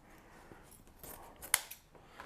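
Scissors snip through ribbon while a decorative fall bow is being made, giving a quiet, brief crisp cut near the middle amid faint handling rustle.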